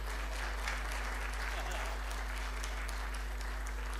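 Audience at a live comedy show applauds in a steady, dense wash of clapping that holds at an even level throughout, with a low steady hum underneath.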